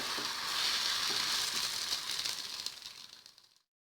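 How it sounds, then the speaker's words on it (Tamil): A sooji and potato breakfast cake sizzles steadily in a pan over a medium flame, a close, even frying hiss that holds and then fades out at the end with no talking. "இது மீடியம் ஃப்ளேமில் வச்சுட்டு கொஞ்சம் நேரம் வேகட்டும்"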